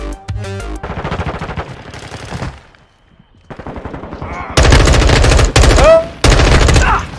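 Gunfire from the Modern Warfare 2 video game comes as loud, rapid automatic bursts, short volleys near the start and then sustained dense firing broken by brief gaps, close and punchy.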